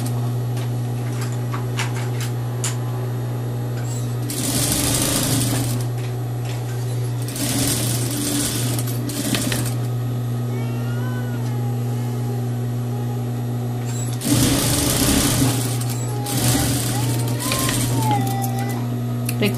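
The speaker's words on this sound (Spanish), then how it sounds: "así es que igual vamos a coser en la recta y posteriormente vamos a coser, ponerle over o zigzag" A sewing machine runs in bursts sewing a straight seam on a short one-piece jumpsuit, its steady whirring stitches rising loudly over a constant mechanical hum, stopping and starting several times.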